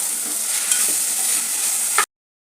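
Rice, washed and soaked, sautéed in a hot pan with spices for a festive veg thali, giving a steady close sizzle with light stirring scrapes that cuts off abruptly.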